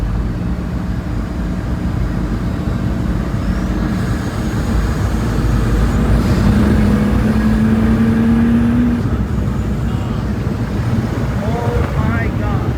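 Pagani Huayra RBC supercar under hard driving, a steady loud engine and road roar with wind buffeting, a rising tone under braking midway, and voices talking over it from inside the car.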